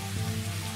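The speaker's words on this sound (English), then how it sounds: "Really, that's not rain, that's a downpour." Heavy downpour in the VR game John Lazarus, a dense steady hiss of rain pouring on surfaces, continuous and fairly loud with no voices.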